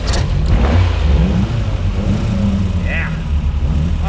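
A rear-engined car, an MR2, is fired up and revved hard, its engine note loud and close and rising and falling throughout, with voices talking over it.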